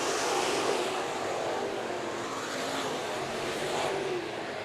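IMCA modified race cars roar around the Bakersfield Speedway oval during the 2019 Richie McGowan Memorial, a dense pack of engines blending into one continuous, loud roar that swells slightly as cars pass.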